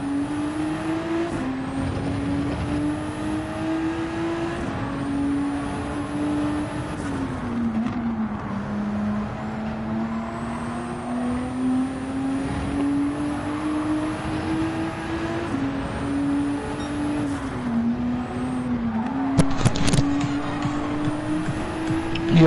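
A Corvette race car in Gran Turismo 7 holds a steady, droning engine note for the whole stretch, with the pitch rising and dipping gently as it shifts and changes speed, and brief sharp clicks near the end.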